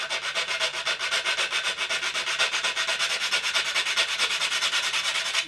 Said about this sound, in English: sand it in